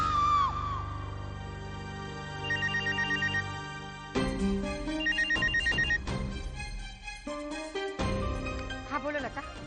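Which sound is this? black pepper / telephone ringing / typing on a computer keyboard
telephone ringing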